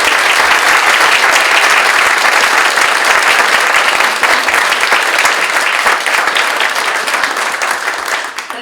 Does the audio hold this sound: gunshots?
no